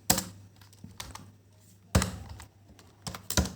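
Code being typed on a computer keyboard, with short bursts of close, crisp key clicks and thuds separated by brief pauses, and no voices.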